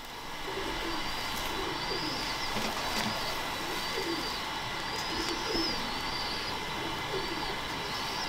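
Large pigeons coo in a Lahore loft, soft repeated cooing calls rising and falling over a steady busy outdoor background, with faint higher bird chirps scattered through.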